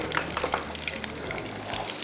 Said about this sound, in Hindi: चल, अच्छा सा तड़का तैयार हो गया।